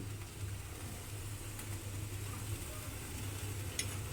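Pointed gourd peels stir-fried in a wok for several minutes, a steady soft sizzle with faint occasional scrapes and clinks, low and continuous throughout.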